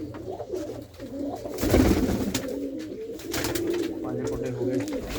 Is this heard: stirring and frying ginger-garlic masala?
no